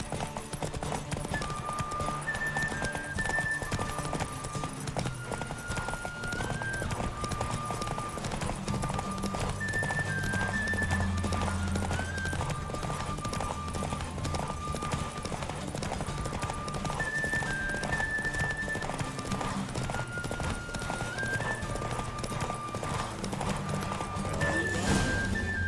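Roach the horse in The Witcher 3 game world, hooves clip-clopping steadily with a few neighs, set within a continuous musical score that runs the whole way through.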